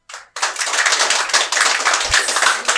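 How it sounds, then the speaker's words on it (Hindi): A room of students claps together in a classroom for a pupil called forward, with dense, loud, continuous clapping starting abruptly after a brief moment and holding steady throughout. "come here Ritu, clapping for her"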